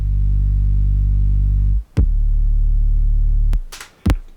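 A very wide, deep sub bass layered with a narrower lead bass from two Serum synth instances for an edgy pop song, sustained heavy low notes that cut off sharply twice, with brief higher clicks between.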